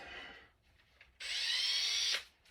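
A power drill whirs in two bursts, a short faint one first and then a louder steady run of about a second, on a job drilling through MDF to set up a glass-cutting project for a pea puffer tank.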